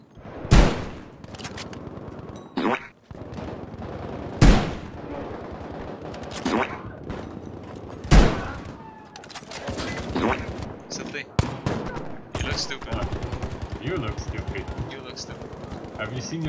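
Gunfire in the Battlefield V beta, sharp loud shots in several separate bursts, some rapid machine-gun volleys, with people talking between and over the firing.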